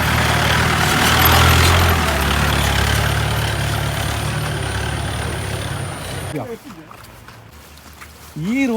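A jeep engine rumbles and idles on a muddy forest road near Sagar and Bhatkal, loud and steady for about six seconds and then dropping away. People talk over it.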